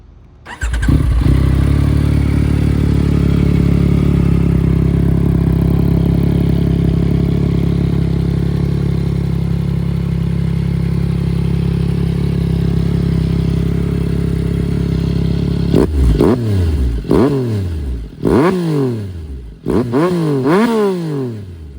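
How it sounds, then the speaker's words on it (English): A Yamaha R9 fitted with a Yoshimura exhaust fires up and settles into a loud, steady idle, then takes a series of sharp throttle blips that rise and fall near the microphone, with no talking. "And of course, yoshimura exhaust. I think everybody's been probably waiting to hear"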